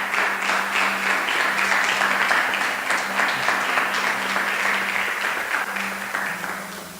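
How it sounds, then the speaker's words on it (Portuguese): A church congregation at a prayer service applauds, a sustained burst of many hands clapping together at a steady level that tapers slightly toward the end, under a faint background hum. "Você pode aplaudir o Senhor mais uma vez por isso?"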